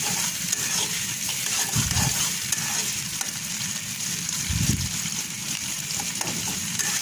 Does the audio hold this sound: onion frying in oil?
yes